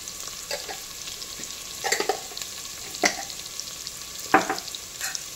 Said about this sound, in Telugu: ఆనియన్స్ అన్నీ కొంచెం బ్రౌన్ కలర్ వచ్చే వరకు వేపుకోవాలండి